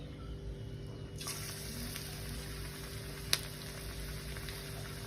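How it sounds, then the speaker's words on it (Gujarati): Onion fritters dropped into hot oil for frying: a sudden burst of bright sizzling starts after a quiet second and then holds as a steady close hiss, with one sharp tap partway through. "હવે આપણે અંદર ભજીયા નાખીશું"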